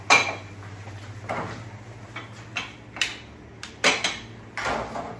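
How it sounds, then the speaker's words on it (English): A washed cooking pot being handled in a home kitchen: several light metallic clinks and knocks, scattered irregularly and fairly close, over a steady low hum, with no talking. "I've got my pot here all washed and ready to go"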